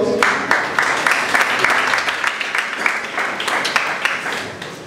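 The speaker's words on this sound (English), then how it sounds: "Can we have a round of applause?" A conference audience breaks into loud, sustained applause, many hands clapping together in a dense wash that slowly tapers off.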